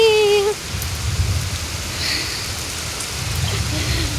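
Heavy monsoon rain pours down outdoors as a dense, steady roar, loud and close and filling the scene from start to finish.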